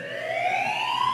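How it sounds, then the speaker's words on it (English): An alarm wails in a zombie apocalypse TV drama episode, a loud continuous electronic tone slowly rising in pitch, steady and alone throughout. "I'm starting the alarm."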